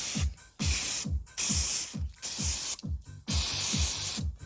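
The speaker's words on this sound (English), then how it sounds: "First thing, clean them up just with the old brake cleaners. I'll give them a quick squirt at the top half" Brake cleaner sprayed from an aerosol can onto bolts and parts, in about six short hissing squirts with brief gaps between them, close and loud.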